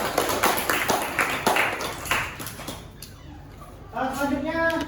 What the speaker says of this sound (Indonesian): Tepuk tangan dulu pada Elvi.